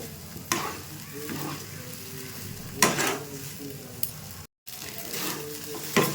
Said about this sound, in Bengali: দেখুন সুজিটা অনেকটা শুকনো হয়ে এসছে আর একটু শুকনো করে নেব